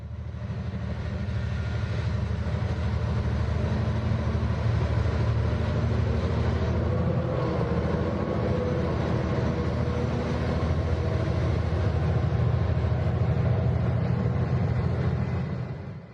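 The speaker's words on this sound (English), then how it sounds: "the weed-controlled train runs along tracks and railway yards" Model railway weed-control train rolling along tracks through a railway yard, a steady low rumble and hum that holds evenly throughout, fairly close, with no voices.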